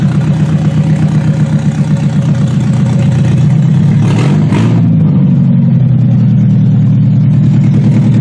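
An old, rusted Toyota car that has sat sunk into the ground runs after starting, its engine rumbling loudly and close with a steady pulsing idle and a brief rev midway.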